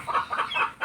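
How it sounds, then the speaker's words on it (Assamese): Backyard hens cluck close by in a quick run of four short, rhythmic calls, clear and alone. "এয়া দেখিছেনে পূৰা কক কক কৈ আছে"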